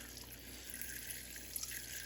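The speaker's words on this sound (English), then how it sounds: "Now I've got 3 cups of water, which I'm going to add our better than bouillon to" Three cups of water pour into a stew pan for a cowboy stew, making a faint, steady trickle and splash with no talking.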